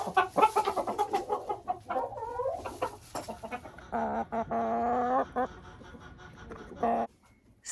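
Roosters and hens on a backyard poultry run clucking and calling close by, busy overlapping bursts that thin out toward the end, with a person talking among them.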